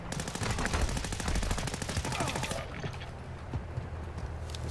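Rapid automatic gunfire in a 6v3 multiplayer shooter match, a dense, loud stream of shots for about two and a half seconds that then thins into scattered, fainter bursts and distant pops.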